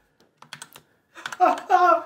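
Rapid typing on a computer keyboard by hands just chilled in ice, starting as sparse scattered key clicks and building into a dense, louder burst of fast keystrokes, with some voice-like sound mixed in.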